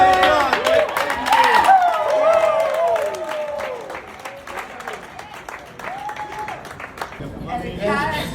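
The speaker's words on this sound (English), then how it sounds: "Let's give it a round of applause." Applause and cheering from a crowd at a Magic Mike Live show announcement in New York, with claps and whoops mixed under excited voices, loudest early on and then easing before a final swell.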